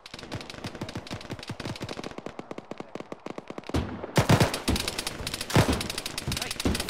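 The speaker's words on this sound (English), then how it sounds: "That was a fucking LMG from somewhere." Sustained light machine gun fire from a bunker in an Arma battle, rapid loud bursts of rounds rattling close, then heavier overlapping volleys and impacts as the firefight intensifies.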